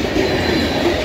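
A BNSF Dash 9 locomotive leads a loaded CSX grain train in Pennsylvania, with a loud, close, steady rumble of rolling rail cars and a faint wheel squeal, brief and without talk.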